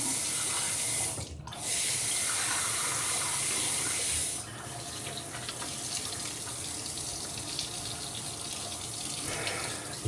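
Tap water runs steadily into a sink to wet a RAPIRA razor, a broad continuous gush that briefly cuts out and then carries on as a slightly softer, even flow.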